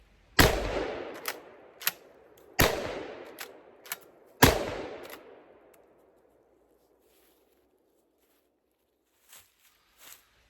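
A shotgun loaded with high-brass shells fires three sharp, loud blasts about two seconds apart, each ringing off into a decaying tail, with smaller mechanical clacks between and a couple of faint clicks after a pause.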